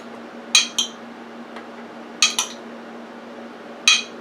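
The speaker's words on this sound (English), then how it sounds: "Now I'm going to put the ground beef." A utensil clinks sharply against a baking dish as ground beef is layered over eggplant and sauce, giving three close pairs of bright metallic taps separated by quiet pauses.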